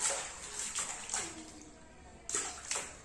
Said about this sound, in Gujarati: જો જો કેવા છબછબિયા કરે